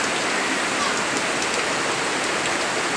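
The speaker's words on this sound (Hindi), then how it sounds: "देखिए कितनी जबरदस्त बारिश हो रही है" Heavy monsoon rain pours steadily outside a balcony, a dense, loud, unbroken hiss filling the whole stretch with no pauses.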